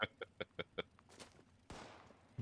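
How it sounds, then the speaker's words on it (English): Gunshots from super mutants in Fallout 76: a quick run of about five sharp, evenly spaced shots up front, then scattered fainter reports and a harsh broadband burst near the end. "I hear gunshots."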